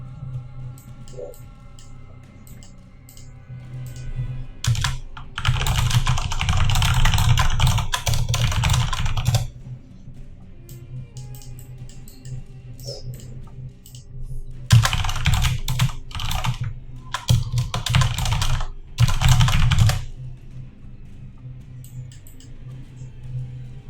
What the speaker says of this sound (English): I have a very loud, clicky keyboard.